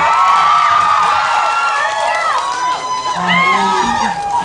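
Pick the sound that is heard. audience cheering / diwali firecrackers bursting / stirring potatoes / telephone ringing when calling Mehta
audience cheering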